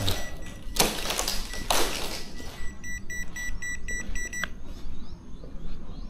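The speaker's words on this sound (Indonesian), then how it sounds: "ini menunjukkan alarm sensornya itu berbunyi high" Electronic sensor alarm in an abandoned former COVID-19 hospital in Surabaya, giving a run of short, high, evenly spaced beeps that break off partway, over a steady hiss of room noise and some rustling.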